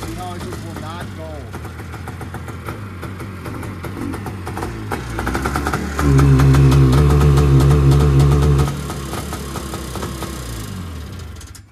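A Yamaha snowmobile engine idles with a steady mid-pitched drone, then bogs heavily under throttle for a few seconds, surging louder without climbing in pitch before falling back to idle, with a voice talking over it.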